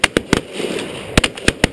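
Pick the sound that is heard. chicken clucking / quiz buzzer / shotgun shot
shotgun shot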